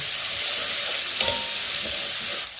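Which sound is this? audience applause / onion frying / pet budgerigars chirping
onion frying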